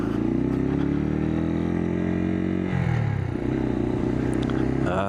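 A Suzuki TU250X single-cylinder motorcycle being ridden in second gear gives a steady, loud engine drone that dips and shifts pitch briefly midway, then settles back into a constant hum.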